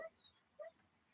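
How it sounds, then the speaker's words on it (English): A sleeping dog whimpers while dreaming, giving two brief, high, faint whines about half a second apart in a quiet room. "Excuse the dog, he's dreaming."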